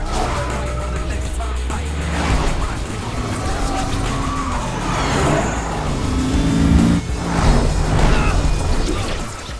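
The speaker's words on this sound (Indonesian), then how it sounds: "Dengan menggunakan Mercedes SLR McLaren warna hitam, Jason lantas segera memacu mobilnya menuju ke rumah Jerry." A black Mercedes SLR McLaren speeds along with its engine roaring loud and close, its tires skidding and squealing in several surges that swell toward the end.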